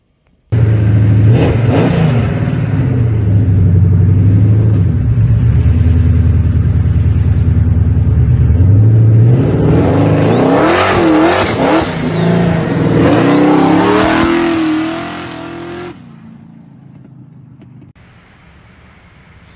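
Roush Mustang engine on a half-throttle pull at 5 pounds of boost, a loud deep rumble that revs up, surges with rising whine, then drops off and fades into quieter idle.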